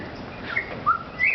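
A wild Australian currawong or butcherbird calls with a few short, bright whistled notes, moderately near, over a faint outdoor background.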